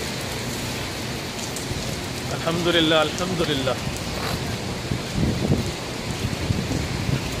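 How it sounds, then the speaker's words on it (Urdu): Steady rain falls outdoors during an Umrah visit to Mecca, a continuous wash of patter and drops under a voice speaking briefly. "یہ ساری بارش ہو رہی ہے یہاں پہ"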